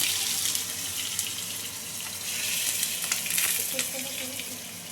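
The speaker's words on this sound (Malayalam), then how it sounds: "ഈ മീൻ ഒരു ഭാഗം നന്നായിട്ട് ഫ്രൈ ചെയ്ത് വന്നു കഴിഞ്ഞാൽ നമ്മളൊന്ന് തിരിച്ചിട്ട് മറ്റേ ഭാഗവും നന്നായിട്ട് ഫ്രൈ ചെയ്തെടുക്കുക" Pomfret fish frying in oil in a pan, a soft continuous sizzle and spatter with a few small pops, close but fairly quiet, no speech.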